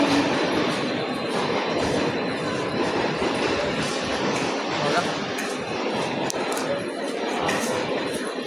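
A Mumbai local train stands at Vikhroli station platform 1, giving a steady, close rumble of train and station noise, with a voice speaking over it.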